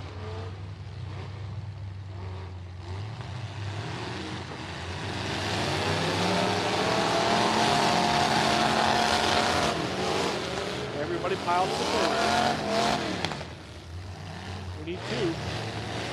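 Several racing cars at the River City Rampage event rev and pull away together, loud engine roar rising and swelling with tire noise, while people talk over it nearby.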